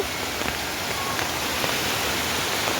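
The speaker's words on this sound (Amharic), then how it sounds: "ጎርፍ ነው።" Heavy rain pours down steadily outdoors while floodwater rushes nearby, forming a dense, continuous hiss that holds at an even level throughout with no talking.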